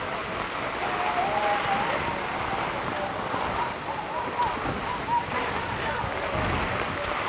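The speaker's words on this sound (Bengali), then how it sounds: "হঠাৎই বৃষ্টির হানা এবং বেশ জোরে সোরে বৃষ্টি হচ্ছে" Sudden heavy rain pours down at Nilgiri in Bandarban, Chittagong, a dense steady roar of broadband hiss with no break, while faint voices murmur underneath.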